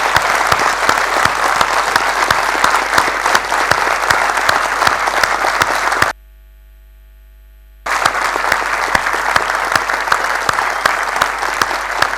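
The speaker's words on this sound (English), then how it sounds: "I think we should give them a round of applause." A lecture audience at a physics talk on memory, soft theorems and symmetries gives a loud, sustained round of applause, dense and steady, broken by a brief silent gap before resuming.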